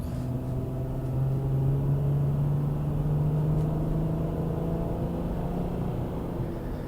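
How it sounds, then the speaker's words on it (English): A third-generation Honda Odyssey van with a J-series V6 accelerates, its engine drone rising steadily in pitch as VTEC engages, loud and continuous from inside the cabin, with no speech over it. "You can hear VTEC, and then you can hustle the van."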